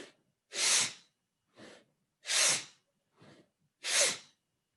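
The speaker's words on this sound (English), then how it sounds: "You must be hearing this, breathing noise. So it's a rigorous breath than our normal breath." Forceful nasal breathing during meditation: three loud, sharp exhalations through the nose alternating with softer, shorter inhalations in a steady rhythm, close and with no talk.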